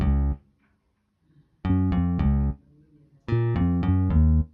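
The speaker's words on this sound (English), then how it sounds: "let me just play the bass line bit" Synth bass line from a song's verses, three separate phrases of short repeated plucky notes with gaps of near silence between them, clear and alone without talk.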